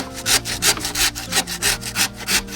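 A hand saw rasps through wood in quick, even back-and-forth strokes, about eight close, loud strokes with no talking.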